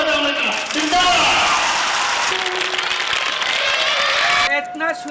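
An audience applauds a bahrupiya impersonation performer in dense, loud, continuous clapping mixed with voices, which cuts off abruptly near the end.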